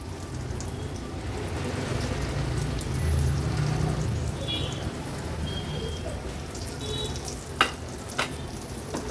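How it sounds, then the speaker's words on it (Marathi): Steady, close sizzling of banana slices frying in shallow oil over low heat, a soft crackling hiss throughout with a couple of sharper pops near the end. "ह्या कमी तेलावरच ह्या आपण केळीचे काप तळणार आहोत"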